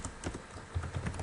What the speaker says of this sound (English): So just type in some keywords,